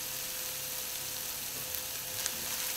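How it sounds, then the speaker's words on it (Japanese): Food stir-fried in a pan over a campfire sizzles and crackles in a steady, dense hiss, with a few louder pops near the end. "ちょっとパチパチって音がしますね。"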